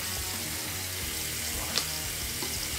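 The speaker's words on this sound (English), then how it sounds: "let me rinse that off my face here with some cold water" Cold tap water running into a sink while a face is rinsed after shaving, a steady close hiss of flowing water with a small splash partway through.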